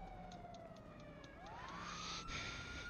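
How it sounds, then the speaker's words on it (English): Police car siren from the GTA5 video game with LSPDFR mods, a wailing tone that sweeps down then rises again, faint and steady with rhythmic clicking blips, no talk. "And my siren is just going off."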